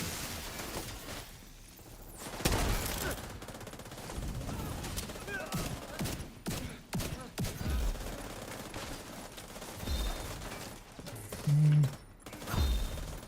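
Gunfire rattles in a PvE video game session, with bursts of automatic shots and scattered single cracks over a busy background of game sounds.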